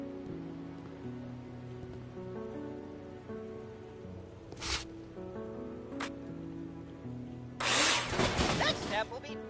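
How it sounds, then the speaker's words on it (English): A power drill takes apart scaffolding in a video game: two short whirring bursts, then a longer, louder grinding run near the end, over steady background music. "After your work, dismantle your scaffolding with drill."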